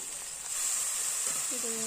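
Ground coriander and chilli powder frying in hot oil, a sudden loud hiss that starts partway through and holds steady, with a voice speaking briefly near the end.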